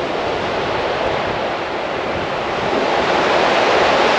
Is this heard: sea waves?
yes